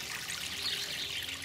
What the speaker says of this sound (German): Ruhig kräftig gießen, bis das Wasser unten durchläuft.